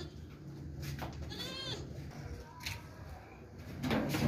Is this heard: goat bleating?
yes